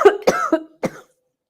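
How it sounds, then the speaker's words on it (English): A close, loud fit of coughing, three or four harsh coughs in quick succession, then silence. "When you get a coughing fit"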